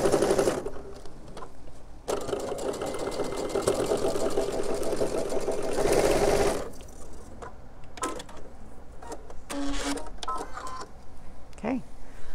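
A sewing machine stitching slowly over bulky, thick seams, its rapid mechanical whirring running steadily for several seconds, then pausing, with a person talking quietly over and between the runs.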